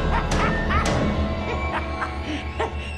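Dogs yip and bark in short bursts, mixed with high whimpers, fairly close and overlapping.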